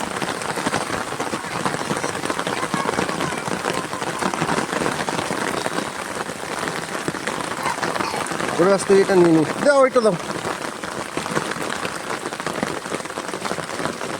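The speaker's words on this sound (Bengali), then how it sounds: "বৃষ্টি জোরে আসছে" Heavy rain pours steadily in a village, a dense continuous hiss throughout, with people talking over it and a brief bump of handling or movement near the end.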